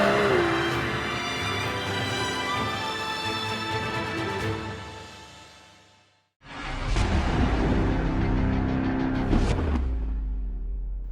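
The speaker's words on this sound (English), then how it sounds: "Life doesn't get any better than cruising through the English countryside in the DB11." Aston Martin DB11 grand tourer driving on English country roads, a steady loud engine and road drone that drops away briefly before surging back with a deep revving note.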